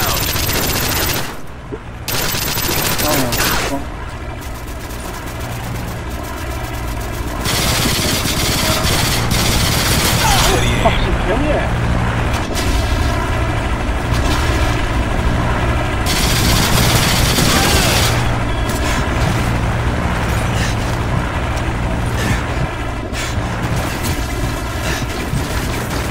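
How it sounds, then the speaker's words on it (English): Rapid gunfire from an enemy strafe run in Modern Warfare 3 on the Wii, loud and sustained over a dense game soundscape with engine rumble and scattered bursts, with voice chatter in places. "Enemy strafe run inbound."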